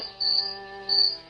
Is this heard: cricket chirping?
yes